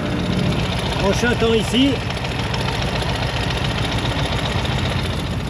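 A sidecar motorcycle with an electrical fault idles steadily nearby, a constant low rumble running throughout while someone speaks briefly over it.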